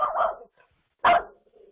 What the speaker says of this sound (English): My dog has decided to go barking